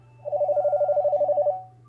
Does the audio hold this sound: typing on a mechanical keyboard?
no